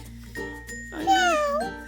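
A Hatchimals kitty toy gives a short electronic meow, one bright rising-and-falling call close by after a few faint chirps, heard alone in a quiet room.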